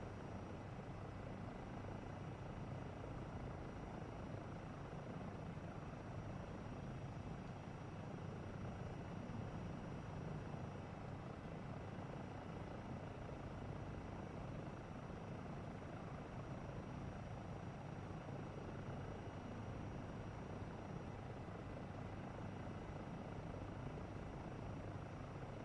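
Steady, loud helicopter rotor and engine drone from a PSVR 2 helicopter flight game, holding unbroken and even for the whole stretch with no voices over it.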